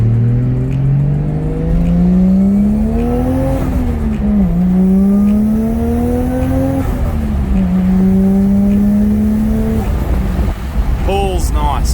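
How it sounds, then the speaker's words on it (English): Turbocharged Holden Torana accelerating on the road, its engine note climbing loudly through several gears with brief dips at each shift, a fluttering turbo sound in the mix and a voice speaking underneath. "It kind of like flutters a bit different, a bit higher pitched, and flutters earlier with less boost."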